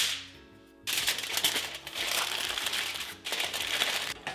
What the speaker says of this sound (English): we're going to wrap this up in foil